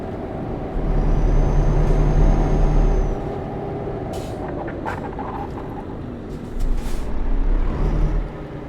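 In Euro Truck Simulator 2, a truck hauling a high-value trailer rumbles with a loud low engine drone, and a sharp hiss of air-brake release sounds midway, followed by the engine surging again.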